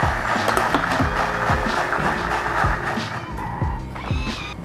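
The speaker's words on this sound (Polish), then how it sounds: "Blendujemy na gładką masę" A blender motor in a restaurant kitchen whirs loudly and continuously, its pitch rising and dipping as it churns a boiled red mixture into a smooth puree, close by and unbroken for several seconds.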